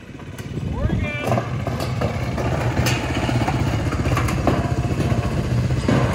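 A quad ATV fitted with barrel tires runs nearby with a rough, clattering, buzzing engine drone that grows steadier, while people talk over it.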